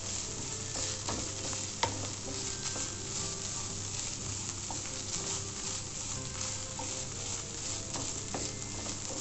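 Grated coconut, onion and red chilies frying in a pan while being stirred continuously, a steady close sizzle broken by frequent light scraping and clicking of the spoon against the pan.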